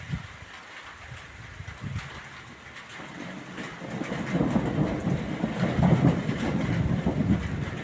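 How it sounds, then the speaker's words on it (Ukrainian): Spring drizzle with distant thunder during an early May storm, a continuous hiss of light rain with low rumbling that swells and rolls in the background, heard outdoors. "І гримить і моросить."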